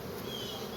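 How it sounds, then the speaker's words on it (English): Faint, steady buzzing of honeybees as they are gently brushed off a hive frame at an apiary, a close continuous drone with no talking. "Just going to gently brush the bees off."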